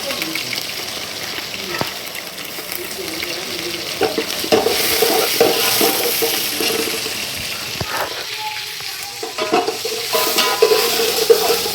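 Broken green chillies and onion sautéed in a pan give a continuous sizzle broken by repeated spatula scrapes and stirring knocks, with intermittent kitchen clatter and watery hiss.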